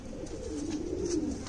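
An old-breed pigeon, a guldaar, gives a low, soft rolling coo, brief and fairly quiet, over faint background noise without talk.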